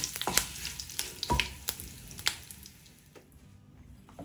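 Soft sizzling crackles and sharp pops as hot oil tempering meets garlic chutney and is stirred in, fading to quiet toward the end.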